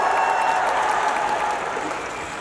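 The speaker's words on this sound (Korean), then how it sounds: "박수 부탁드립니다" Audience applause at an open talk at the Busan International Film Festival, a steady dense wash of clapping from a crowd, fairly loud and unbroken, tapering slightly toward the end.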